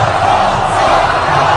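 A big stadium crowd roars and cheers for Ron Paul, a dense continuous wash of voices holding steady and loud throughout.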